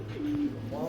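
Pigeons at a pigeon farm coo in soft, repeated low calls that run steadily through the short stretch, with faint background murmur and no clear words.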